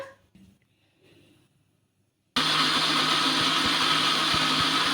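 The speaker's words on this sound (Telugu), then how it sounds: "కొన్ని నీళ్లు వేసుకొని మిక్సీ అయితే పట్టేసుకుందాం మెత్తగా" A mixer grinder blends soaked flattened rice with a little water into batter, a loud, continuous whirring motor drone that switches on abruptly after a quiet stretch and runs steadily to the end.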